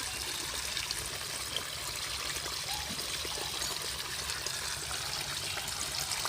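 Tap water pours into a container holding tadpoles that are turning into frogs, a steady, continuous splashing trickle close by with no talking.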